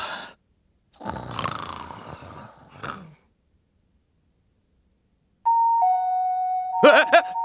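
Someone talks briefly, then a pause, then an electronic two-tone intercom doorbell chime in a horror video game rings out clearly and sustains, with a short burst of noise near the end.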